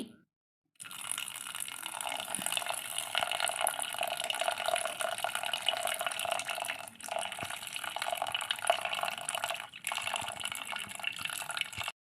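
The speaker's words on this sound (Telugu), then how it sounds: "ఇందులోకి కొద్దిగా నీరు వేయాలి" Water is poured into a pressure cooker holding soaked black-eyed peas, producing a steady, close splashing stream that runs almost unbroken for about eleven seconds, with a brief dip in between and no voices.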